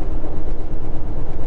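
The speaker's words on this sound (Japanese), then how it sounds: "あの川の向こう岸にずっと貨物列車が走ってますね" A freight train runs along a river in Oregon or Washington, heard as a steady, loud, low rumble. The roar of the rolling cars holds evenly throughout, with no voices.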